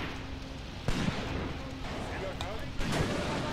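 Gun firing in the Graviteam Tactics video game battle, two distant booming shots a couple of seconds apart under someone talking over the action.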